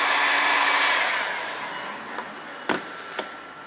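A heat gun blows loudly and steadily on a stuck engine piston, its hiss fading to a lower level, followed by a few sharp knocks and clicks close by.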